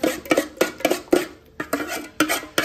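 An egg is beaten with a utensil in a bowl while preparing a Tunisian tajine, giving quick rhythmic clinks and scrapes in short bursts with brief pauses, close and fairly loud.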